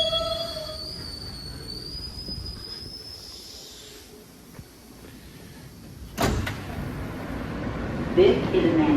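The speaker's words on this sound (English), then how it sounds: "So this is AirTrain going to Manhattan." AirTrain at JFK Airport running toward Manhattan, a steady rail rumble with rising whine, a brief door-like clatter and a short wheel squeal near the end, with people talking faintly.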